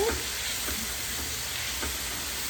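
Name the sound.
mixing papaya salad ingredients together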